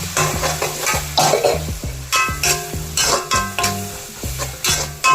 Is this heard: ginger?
yes